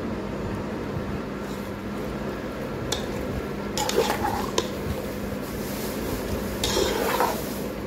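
Hands knead and squish a mixture of spices, nutmeg, mace, black pepper, tomato sauce and oil in a bowl, giving soft wet squelches with occasional light clinks of a dish over a constant low kitchen hum.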